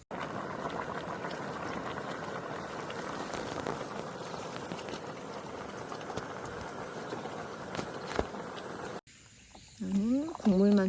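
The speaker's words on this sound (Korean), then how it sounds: "물 좀 부어서 이렇게 팔팔 끓이면 되니까" Water with Spam bubbling at a steady rolling boil in a pot during a car-camping meal outdoors, a continuous close hiss and burble that drops away near the end as a voice briefly speaks.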